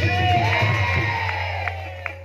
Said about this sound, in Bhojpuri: भगवान शंकर के नाम से जयकारा लगाओ लगाओ